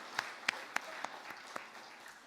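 Applause from a church congregation during a Sunday service: a few sparse, separate claps ring out in a quiet room, fading to scattered light claps.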